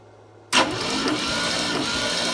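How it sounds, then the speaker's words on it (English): A 1969 Ford Mustang Mach 1 engine cranks over on the starter during a compression test with the throttle propped open, starting abruptly after a moment of near-silence as a steady, loud whirring drone. "we get the throttle propped open so we don't have restriction airflow. And then we're going to go ahead and crank it"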